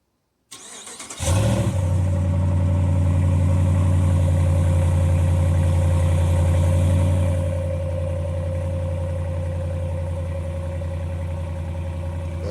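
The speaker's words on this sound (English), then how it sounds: "Rebel Stormtrooper got a new muffler delete. Cold start, 70 degrees." A 2018 Ram Rebel pickup with a muffler-delete exhaust cold starts at about 70 degrees: a sharp crank and loud catch, then a deep, steady, rumbling idle that settles slightly quieter after several seconds, close and alone.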